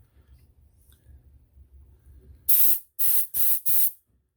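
Four sharp bursts of compressed air hiss through a Dellorto VHB 29C carburetor jet from a 1973 Moto Guzzi, each blast loud and close, following a quiet stretch.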